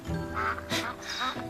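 Ducks on a riverbank quack several times in quick, uneven bursts, fairly close but moderately quiet, with faint background sound and no clear speech.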